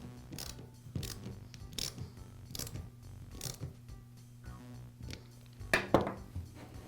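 Screw being driven to secure a starter rope on a Poulan chainsaw starter hub during repair, heard as a series of close ratcheting, clicking mechanical sounds with small metallic rattles, steady and quiet throughout.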